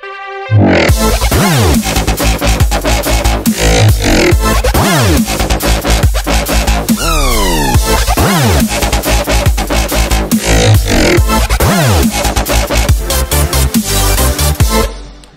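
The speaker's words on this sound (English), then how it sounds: "This one is on the aggressive FM bass" A loud, aggressive FM dubstep bass synth made in Reason plays continuously, growling and shifting in tone with sweeping pitch movements and dense, harsh texture throughout.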